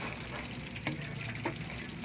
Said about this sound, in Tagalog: Haluin lang natin.